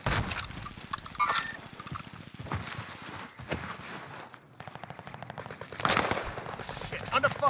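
Gunfire in a Warzone Caldera match, with a BREN LMG among the weapons, comes as dense rapid bursts and scattered shots throughout, mixed with footsteps and game noise while players talk.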